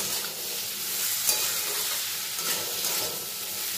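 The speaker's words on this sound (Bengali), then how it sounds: "যে জিরে আর ধনেটা আমি গুঁড়িয়ে রেখেছিলাম সেটার বেশিরভাগটাই আমি এখন এর মধ্যে দিয়ে দেব" Ground cumin and coriander go into a hot pan of oil for a koi fish curry with taro and potato, bringing a bright, steady sizzle with soft stirring scrapes and a clink at the end, close and without talk.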